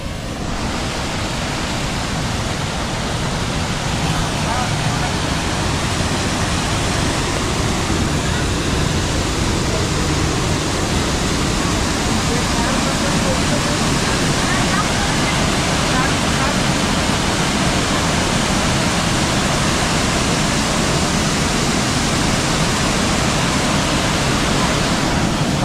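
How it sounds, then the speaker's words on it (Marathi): A waterfall in the Konkan region plunges into a deep pool with a cave beneath the falling water, producing a steady, loud, unbroken roar of rushing water that holds constant for the whole stretch. "हा बघा धबधबा."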